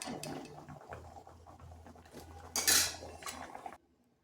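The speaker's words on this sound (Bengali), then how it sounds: "এইভাবে জলটা ঝরিয়ে নিতে হবে" Steamed elephant foot yam is drained in a pot, with metal scrapes and clanks of cookware, a brief louder splashing pour of water near the end, then silence.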